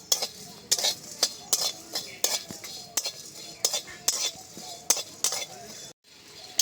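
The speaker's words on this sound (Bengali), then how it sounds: "দিয়ে দিচ্ছি গোটা ধনে আর গোটা জিরে এগুলোকে শুকনো খোলায় এবার ভেজে নেব খানিক্ষণ" Whole coriander and cumin seeds are dry-roasted in a hot pan while a metal spoon stirs them in regular strokes, giving repeated scraping and clinking against the pan with a soft rattle of seeds in between.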